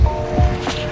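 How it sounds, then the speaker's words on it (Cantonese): Sea waves wash onto the shore at Lanzarote in the Canary Islands, a brief, fairly loud rushing surge with low rumble and no voices. "大家你哋聽唔聽到個海喺度喊緊？"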